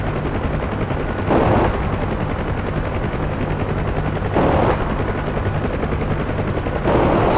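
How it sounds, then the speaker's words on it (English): Door guns on a UH-1 Huey helicopter in DCS World fire in three short bursts over the continuous thumping drone of the rotor and engine. "Try strafing a target by moving the sighting station using your view controls and pressing the trigger switch or"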